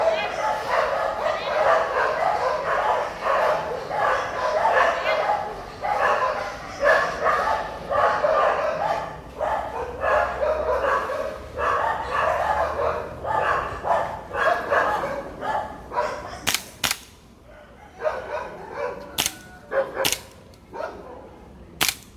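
A dog barks persistently near a workshop in quick rhythmic volleys for most of the stretch, close and loud, before it gives way to sharp snapping clicks and quieter gaps near the end.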